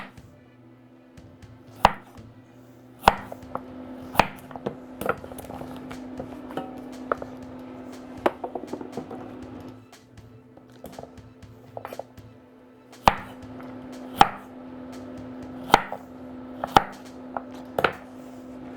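Knife chopping vegetables into half-inch pieces for a beef stew, with sharp, evenly spaced cuts in bursts, close and fairly loud, with a steady hum underneath and no talking.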